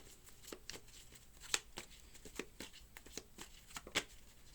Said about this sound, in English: So you can see me shuffling, you can see me.